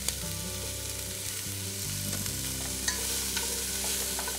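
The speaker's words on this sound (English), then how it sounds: "when we introduce our onions and our garlic. Onions, a little bit of minced garlic." Onions and minced garlic sauté in a pot for a beef barley braise, a soft steady frying hiss with a few faint stirring clicks over a low hum.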